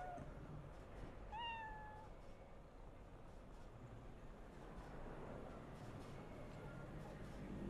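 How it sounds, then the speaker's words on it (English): A cat meows in the video game Cyberpunk 2077, one short rising-then-falling call near the start over a steady ambient city background hum, with no other distinct sounds. "Cat."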